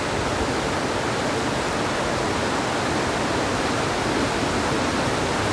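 A river rushes beside a hiking trail in Hyogo, Japan, a dense, steady broadband roar of flowing water filling the whole stretch without pause or voices.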